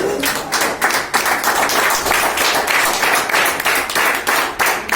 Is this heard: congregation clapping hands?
yes